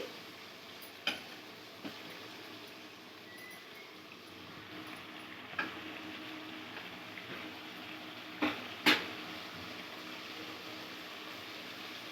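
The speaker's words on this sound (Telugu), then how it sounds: "ఇది బాగా వేగి ఆయిల్ పైకి వచ్చేంత వరకు బాగా లో ఫ్లేమ్లో ఫ్రై చేసుకోవాలండి." Chicken frying gently in oil with salt and turmeric over a low flame, a faint steady sizzle broken by a few soft clicks and taps.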